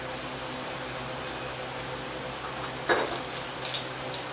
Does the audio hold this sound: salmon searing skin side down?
yes